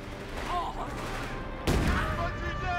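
Gunfire crackles in the North Africa campaign of the video game Company of Heroes 3, with rattling shots under a busy game soundscape and a sharp, louder burst landing partway through.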